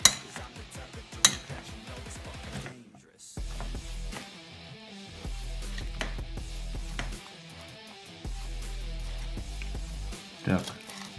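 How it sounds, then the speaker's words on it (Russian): Utensils clink and scrape against a bowl as salad is tossed with dressing, with irregular clatters over a low background hum and brief pauses. "заправочкой поливаю салат, перемешиваем"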